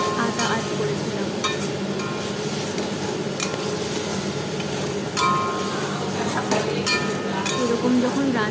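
Potato curry being stir-fried in a pan, the spoon scraping and clinking steadily against the metal over a constant low sizzle, close and continuous with a few sharper clinks.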